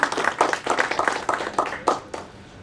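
An audience claps after a college presentation at a Quincy College scholarly talk event, sparse hands beating in an uneven rhythm, close and fairly loud, tapering off toward the end.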